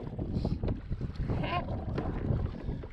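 Gusty wind buffets the microphone outdoors near water, with blustery rumbling throughout and brief bits of voice and splashing.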